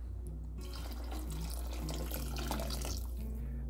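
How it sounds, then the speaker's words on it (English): Water pours in a steady stream into a pot of simmering chicken soup, a continuous splashing gush close by with no talk, over a low humming tone. "I'm also going to add a little bit more water."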